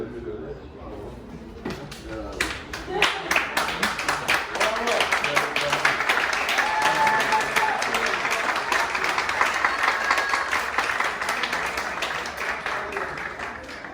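A crowd applauds at a distance competition event, a dense burst of clapping that starts abruptly and stays loud and sustained, with some cheering and voices mixed in.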